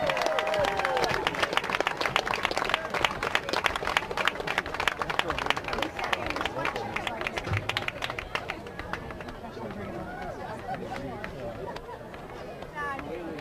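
Crowd at a Kingston vs. Port Angeles game applauds and cheers for the Buccaneer marching band, dense clapping with shouts and chatter, steady and loud before easing slightly toward the end.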